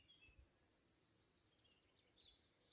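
A single bird sings outdoors, a faint, quick chirping trill lasting about a second, followed by softer distant calls in a quiet setting with no voices.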